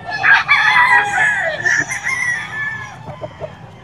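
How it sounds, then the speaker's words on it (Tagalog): Loud, close gamefowl at a holiday poultry sale: a rooster gives a full crow while other chickens cluck around it, with no talking. "Daming manok ni Boss Batang, oh"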